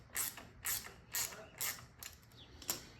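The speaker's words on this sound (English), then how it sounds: "I always like kind of cinching up or getting the generator bolts started first" A ratchet clicks in short, quiet bursts, about six in a row, as generator bolts are tightened on a 1967 Harley-Davidson Shovelhead FLH engine; close and faint, with no voices.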